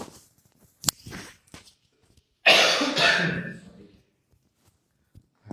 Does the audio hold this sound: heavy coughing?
yes